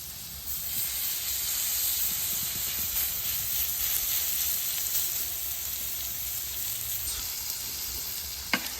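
Steak and potatoes frying in butter on a hot griddle, a loud, steady, dense sizzle and hiss that runs continuously, with a brief clink near the end.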